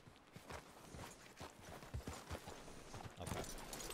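Horse hooves clip-clop at a steady walking rhythm in the Red Dead Redemption video game, fairly faint and close, with no talk over them.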